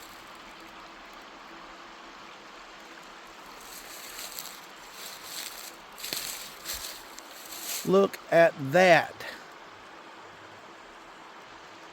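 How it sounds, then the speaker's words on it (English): A small creek in the Ozark National Forest flows as a steady, soft wash of water throughout, while a person speaks briefly over it near the end. "Now that's no big, huge creek. But being able to listen to that right there all night long and sleep to that"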